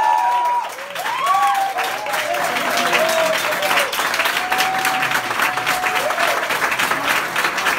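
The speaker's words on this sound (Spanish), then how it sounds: "gran aplauso a todos ustedes, la banda ganadora de este día" A crowd at a Banda Emergente band contest applauds the winning band, with steady dense clapping and some cheering filling the whole stretch, loud and close, while a presenter's voice carries over it at times.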